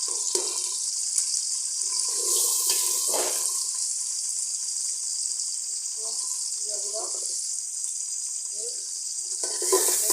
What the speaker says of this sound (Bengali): পেঁয়াজ আর মরিচটা হালকা একটু নরম হয়ে আসে, আমি দিয়ে দিব 4টা এলাচ, 2টা দারচিনি একসাথে সাথে এবং একটু রসুন বাটা।